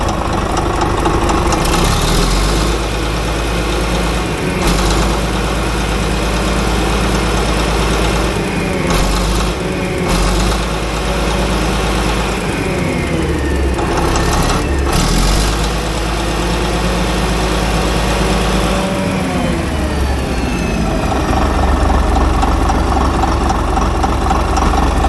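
A long-idle CAT D8 bulldozer's diesel engine runs steadily after repair, a loud, continuous low rumble with a throbbing idle that holds nearly the whole time with no talk.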